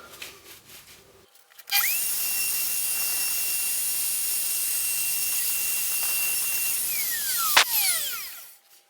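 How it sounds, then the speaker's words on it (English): A WoodRat router spins up to a loud, piercing whine while cutting a comb joint socket in wood, holding steady for several seconds before winding down, with faint workshop clicks before it starts. "so now we're going to cut the left hand side of the middle socket."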